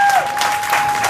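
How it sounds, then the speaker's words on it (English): Audience at a high school Father's Day dinner breaking into a brief round of applause, a short dense patter of clapping heard up close. "Give them a round of applause"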